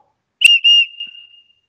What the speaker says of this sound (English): That is a whistle for sure